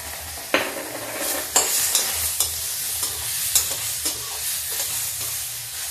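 Tomatoes tossed onto peas in a pan cooked without oil, a soft sizzle broken by several sharp scraping stirs at irregular intervals, close and without talk.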